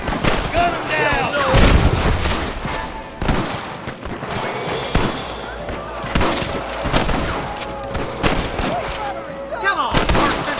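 Shootout with the Rustler gang in Red Dead Redemption: loud, repeated gunshots and booming blasts fire throughout, crowding the mix, with shouting voices talking over the battle.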